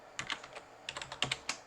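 Light clicks on a computer keyboard come in two short bursts of rapid keystrokes, close and fairly quiet, with no talking.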